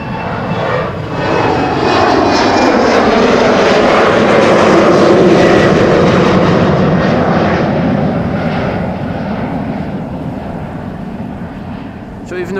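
A departing airliner roars along the Polderbaan runway at Amsterdam Schiphol, a loud sustained engine rumble that swells over several seconds and slowly fades, with an easterly breeze in the background.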